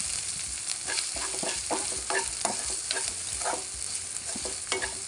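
Ginger-garlic paste and turmeric stirred in a hot pan for a small-fish tamarind stew, with continuous sizzling broken by repeated scraping strokes of a spoon, close and steady.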